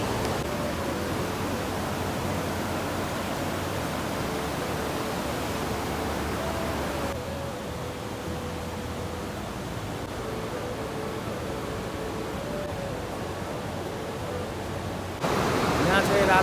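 Flowing water rushes near Radha Kund and Shyam Kund on the Govardhan parikrama route, a steady, dense hiss that stays even and fairly loud for the whole stretch.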